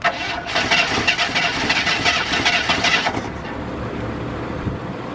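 Jeep Cherokee Pioneer engine cranking and running rough on a cold start after 24 years sitting, a loud, close, uneven mechanical roar with hiss that settles into a steadier lower rumble.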